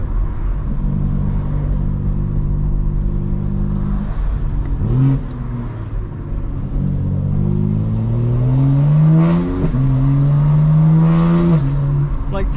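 Steady engine drone from a 2024 BMW M4 Competition xDrive (G82), then a loud, close run of rising, racy revs climbing and shifting repeatedly through the gears.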